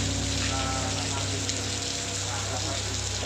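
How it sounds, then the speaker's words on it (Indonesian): Rain falls during the Semeru volcano eruption, mixed with ash like mud rain. It makes a steady, dense patter and hiss that runs on without a break, with a low, constant hum underneath. "Ini kondisi hujannya"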